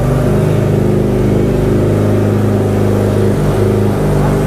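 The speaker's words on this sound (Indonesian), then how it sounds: "Untuk suaranya udah lumayan sangar ya guys, untuk knalpot yang masih slip on." A 2022 Kawasaki ZX10R superbike with a slip-on exhaust, still fitted with its catalytic converter, holds a loud, steady engine drone up close with no break.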